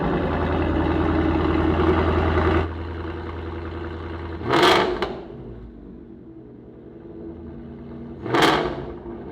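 A Ford Mustang GT with a Borla exhaust and Whipple supercharger idles steadily and loud at first, then drops to a quieter rumble broken by two short sharp throttle blips.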